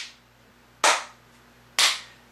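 Two sharp, loud hand claps ring out about a second apart during a clap-off, each a crisp burst with a short decaying tail over a faint steady hum.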